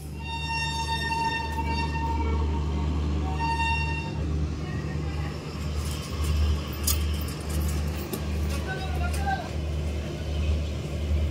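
A Garib Rath train runs after leaving Yesvantpur station. There is a constant low droning rumble with rhythmic clatter, and tonal horn-like notes sound early on, with no clear talk in the foreground.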